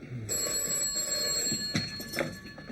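An old-fashioned telephone bell rings steadily and clearly indoors for a couple of seconds, with a bright metallic trill and no talk over it.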